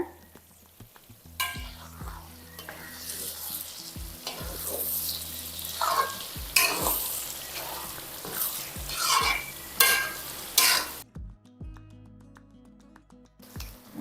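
Drumstick thokku with jaggery and coriander leaves stirred and mashed in a hot pan, with repeated scraping strokes of a spoon over a steady sizzle, close and uneven, ending with a few lighter knocks.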